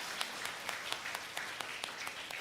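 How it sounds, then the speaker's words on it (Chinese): A church congregation claps to welcome a brother during a Sunday service, producing steady, fairly faint applause with regular sharp clap accents throughout and no voices. "弟兄我们拍手"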